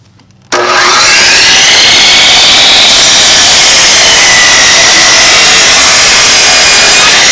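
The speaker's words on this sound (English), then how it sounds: "Oh, I can actually use this miter saw again." A miter saw starts abruptly after a brief quiet moment and cuts through wood with a loud, steady, high-pitched whine and grinding, staying close and sustained to the end.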